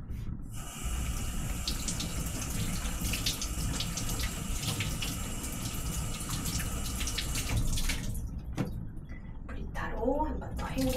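A kitchen tap runs steadily while mushrooms are washed, giving a constant hissing stream for about eight seconds before it cuts off, and a voice follows briefly at the end.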